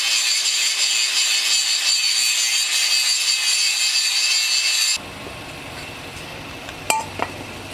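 Steady, loud abrasive grinding on a metal ridge on an LS motor during a Box Caprice engine swap runs continuously, then cuts off, leaving quieter room noise with a couple of faint clinks.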